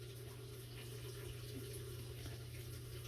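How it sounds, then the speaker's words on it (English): Hot tap water runs steadily into a washing machine as it fills for a tie-dye washout, a constant hiss and rush of flowing water under a low machine hum, unbroken throughout. "we're actually just going to use hot tap water out of the washing machine we got running behind us, filling up for a washout"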